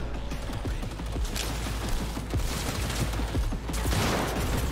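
Rapid gunfire from the video game Cyberpunk 2077, a dense, loud stream of shots with booming low thuds running continuously and without pause.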